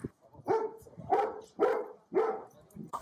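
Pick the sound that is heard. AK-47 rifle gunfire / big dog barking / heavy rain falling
big dog barking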